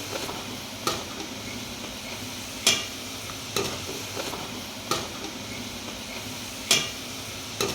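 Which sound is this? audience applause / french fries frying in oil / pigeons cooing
french fries frying in oil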